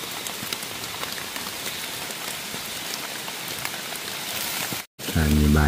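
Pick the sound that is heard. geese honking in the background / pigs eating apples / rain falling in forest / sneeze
rain falling in forest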